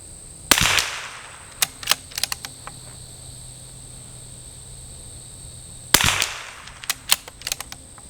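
CZ 457 rimfire rifle with a 26-inch Lilja barrel firing Eley Team ammunition at a range: two sharp, close shots about five seconds apart, each trailed by a scatter of fainter ticks, with no talk.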